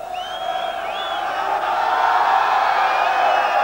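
A large outdoor festival crowd at a 1997 rock concert roars and cheers continuously, with whistles and whoops rising over a steady wall of voices that swells slightly toward the end.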